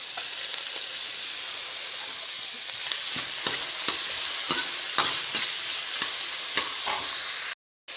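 Onions with finely chopped garlic and ginger fry in a pan for a capsicum and milk curry, a continuous loud sizzle broken by repeated scraping knocks of a spoon stirring.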